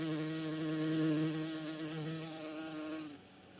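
Bee buzzing in a steady droning hum with a slight wobble in pitch, close and fairly quiet, fading and cutting off toward the end with no voices present.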